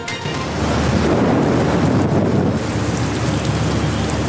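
Heavy first-of-season rain pours down in Chittagong during a storm that floods the city streets, a loud, constant broadband hiss of rainfall with no voices.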